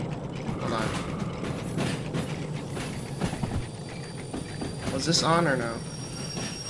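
Locomotive running in the Derail Valley train game, a steady mechanical rumble with ratcheting clanks and rail noise continuing under a voice talking briefly.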